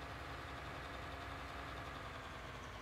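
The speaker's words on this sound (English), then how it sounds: "So if I just back the tractor up a bit" A tractor engine idles in the Farming Simulator video game, a steady low rumbling drone with no change in pitch, faint and continuous throughout with no speech.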